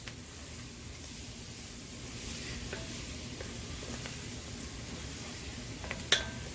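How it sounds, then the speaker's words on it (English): Onions sweating in a pan while making a roux for jambalaya, a soft even sizzle close by with occasional light utensil taps and one sharp clink near the end. "Starting to get a little bit of sweat on these onions."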